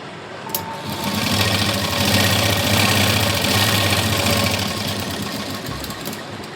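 A sewing machine stitches a tuck on a size 38 blouse front, a loud, close, continuous humming run with steady rapid needle clatter that swells and then tapers off.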